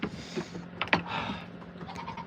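A goat bleats nearby on a homestead during milking, with a few short wavering cries mixed with rustling and handling noises.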